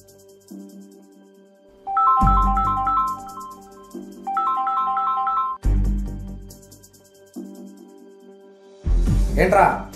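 An incoming call sets off a phone's melodic ringtone, a short tune that repeats in loops with low thuds between phrases, heard in a suspense thriller movie scene.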